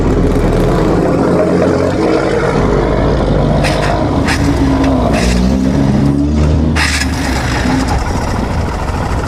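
Barako motorcycle engine, previously noisy from its balancer, cranks and settles into a steady, loud idle, a continuous low rumble with a few throttle blips in the middle and no talking.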